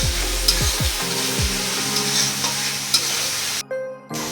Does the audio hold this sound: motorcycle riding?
no